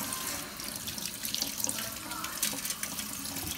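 A faucet runs steadily and fairly loud to wet a toy dinosaur egg, a continuous rushing splash of tap water filling the whole moment.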